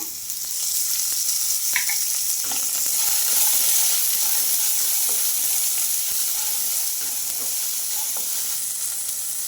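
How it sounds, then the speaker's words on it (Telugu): Garlic, peanuts, green chillies and tomato sizzling in hot oil in a pan, a loud, steady hiss and crackle with occasional stirring clinks, close up, no voices. "ఇంకా అలాగే వెల్లుల్లి ఇప్పుడు ఇవన్నీ కొంచెం ఫ్రై అయిన తర్వాత కొద్దిగా ఆయిల్ అయితే వేసుకుంటున్నాను"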